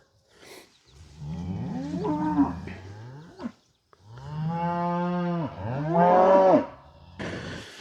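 Cattle on a farm property moo in several long, loud calls, some drawn out and others rising in pitch, with short quiet gaps between them.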